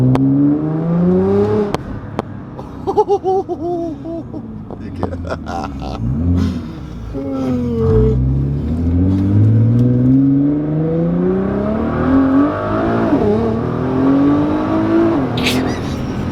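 A Nissan R32 Skyline GT-R engine revs hard and accelerates in repeated rising surges, loud and close, heard with a window down, with excited shouting over the roar.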